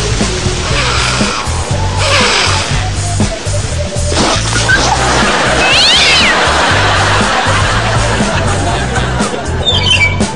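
A cat yowls and caterwauls loudly amid a clattering, busy background with a low rhythmic thumping underneath.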